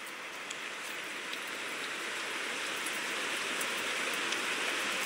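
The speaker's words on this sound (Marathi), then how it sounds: "आता चांगला जोरात आलाय पाऊस." Heavy rain pours down steadily in a dense, unbroken hiss that grows slightly louder over the few seconds, with no voices.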